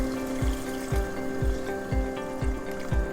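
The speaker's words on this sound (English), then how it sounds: "we're just going to cover our chicken with the water" Water pours steadily into a pot over chicken, a close continuous splashing gush with regular pulsing glugs about twice a second.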